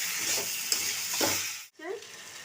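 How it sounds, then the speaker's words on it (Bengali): Potatoes are stirred and sautéed in a hot pan, giving a steady frying sizzle with occasional scraping stir strokes, then a brief gap and a softer sizzle that resumes close by. "এর মধ্যে আলুগুলো দিয়ে দিলাম আমি একটু কষাই"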